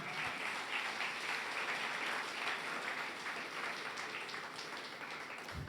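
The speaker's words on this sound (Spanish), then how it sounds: "Hasta le damos un aplauso al Señor, hermanos." A church congregation at a family service applauds the Lord, a dense continuous roar of many hands clapping together, steady and sustained with no break, fairly quiet overall.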